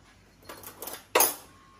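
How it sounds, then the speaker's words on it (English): A small plate taken out and set down near an Instant Pot, making soft rattles followed by one sharp ceramic clink, close and brief. "I'm going to take a little plate"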